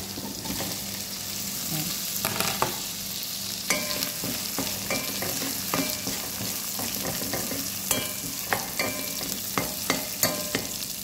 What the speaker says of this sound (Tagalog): Bawang yan guys. Ilagay na rin ang sibuyas.